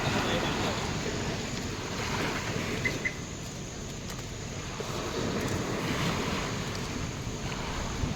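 Sea waves break steadily on a shore near a temple village, a continuous rushing wash with strong wind buffeting the microphone throughout, and faint voices beneath.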